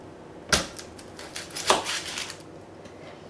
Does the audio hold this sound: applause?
no